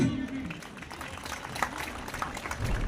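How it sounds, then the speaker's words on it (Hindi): Scattered clapping from a gathering, moderate and uneven, with a voice briefly heard at the start. "भरपूर तालियां जी।"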